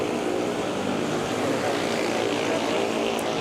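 A Philippine Airlines airplane roars past at Manila airport (NAIA), a loud, steady broadband engine rumble and hiss that holds at constant strength throughout.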